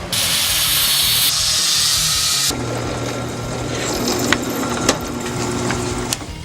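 A power drill bores into plastic parts for a gravity gun replica, a loud continuous whine that shifts pitch midway, with a few clicks near the end and no voices.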